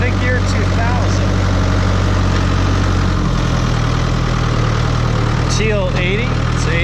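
A 2000 New Holland TL80 80-horsepower tractor idles steadily up close, its low, constant engine rumble running throughout with a slight shift midway, while a person talks over it.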